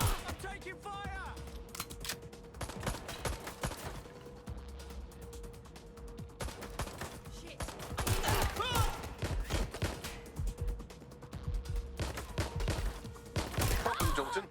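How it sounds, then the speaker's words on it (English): Gunfire in Watch Dogs Legion comes as scattered sharp shots and short bursts, fairly faint and mixed with mechanical clicks and a low hum, with a voice speaking briefly among them. "I'm taking fire."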